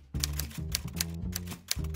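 Keys clack on a typewriter-like keyboard as a keyword is entered into a job search box, a close, brisk run of separate strikes with short pauses between bursts.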